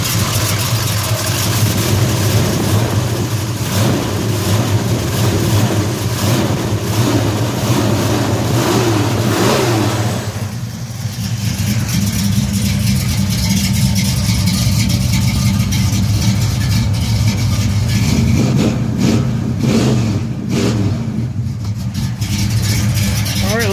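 A 1968 Buick GS 400 with a freshly rebuilt high-performance engine idles steadily and close, a deep continuous rumble with a slight dip and brief throttle blip midway, no talking over it.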